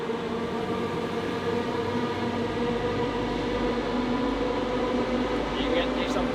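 A train approaches with a steady droning rumble and a sustained tonal hum, the low end swelling midway as it draws nearer, with a voice speaking over it.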